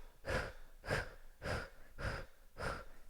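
Five forceful, rhythmic exhales from a belly-snapping yoga breathing exercise, sharp puffs of breath about half a second apart, close and fairly quiet, with no speech.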